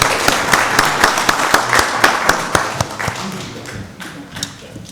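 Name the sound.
audience applause at a county board meeting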